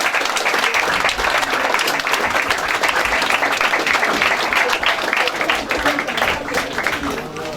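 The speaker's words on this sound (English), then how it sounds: "Round of applause for them." A crowd at a school robotics competition final applauds a placed team, thick sustained clapping holding strong before tapering slightly at the end.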